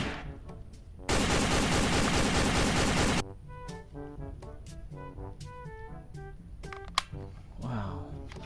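A toy Spider-Man gun fires a loud, dense burst of rapid electronic shooting noise that runs about two seconds, followed by quieter toy sounds and clicks with no talk.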